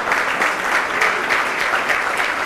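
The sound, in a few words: audience applause at school annual day prize giving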